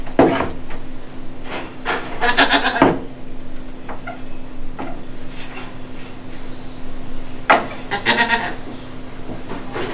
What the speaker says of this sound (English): the goat has time to call